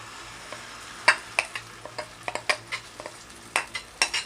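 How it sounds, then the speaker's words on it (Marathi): Onion, tomato and capsicum in a little oil in a pan with batter, a soft sizzle under repeated sharp scrapes and clinks of a spoon stirring against the pan, close and irregular. "इथे मी त्याच पॅनमध्ये परत थोडंसं तेल घालते आणि कांदा टोमॅटो शिमला मिरची जे घातलेले बेटर आहे सर्व घालून घेते"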